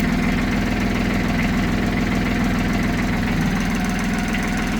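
A tractor engine idles after sitting unused for a month and a half, giving a close, steady, rhythmic low chugging with regular firing pulses and vibration throughout, with no voices.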